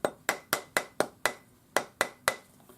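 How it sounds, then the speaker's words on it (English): A rawhide hammer taps a fine silver ring on a steel ring mandrel: about ten crisp, evenly spaced strikes at a brisk steady rhythm, close and fairly loud, with no talking. "Hammer this up on the ring mandrel with the rawhide hammer"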